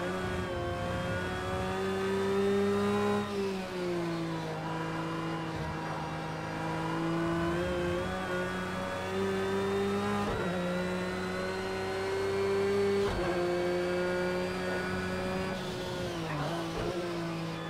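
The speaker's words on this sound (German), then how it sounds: "Wirklich guten Motoren-Sounds." A Porsche 911 GT3 R race car engine in the racing game Project Cars 2, on the Nürburgring Nordschleife, drones and revs steadily, its pitch rising and dipping with gear changes, with no talking.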